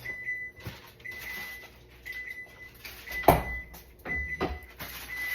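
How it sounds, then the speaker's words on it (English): A home kitchen oven hums with repeated short high tones and a few clunks and knocks that sound like a door or cupboard. The noise is moderately close and comes in bursts, with no talking. "Excuse the noise, that's my oven."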